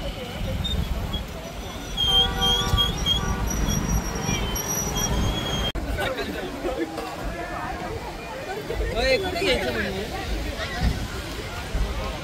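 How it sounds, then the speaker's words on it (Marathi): Dense crowd hubbub fills a riverside Ganesh idol immersion, with many vehicles nearby; a steady wash of voices and traffic noise runs throughout, with brief sung or chanted tones early on. "खूप गर्दी बघा, खूप गाड्या आहे."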